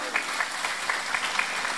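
Brisk applause from a women's Muslimat congregation at a large Islamic religious gathering in a village hall in Depok, steady clapping with rhythmic surges, moderately close and continuous throughout.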